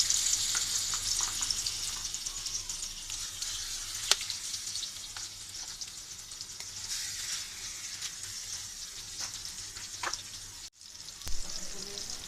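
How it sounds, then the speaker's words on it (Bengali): Large pieces of fish fry in oil in a pan for a masala fish curry, giving a steady, close hiss and sizzle with a few light clinks and a short break near the end. "এখন আমি মাছগুলিকে এক এক করে ভেজে নিব।"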